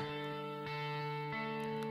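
Electric guitar arpeggio with a delay effect, soft sustained repeating notes blurring into one another in a steady, moderately quiet pattern within a song arrangement.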